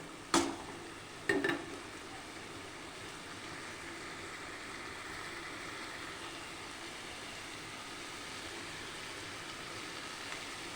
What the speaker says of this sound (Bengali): এটা দিয়েও ভালো করে নাড়াচাড়া করে নেব তাহলে চিংড়ি মাছের মধ্যে সমস্ত মশলা নুন হলুদ সমস্ত ঢুকবে